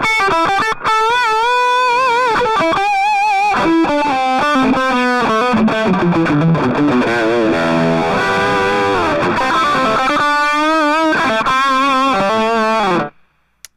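A heavily distorted electric guitar on a humbucker pickup plays sustained chords and riffs, loud and saturated, then cuts off abruptly at the end.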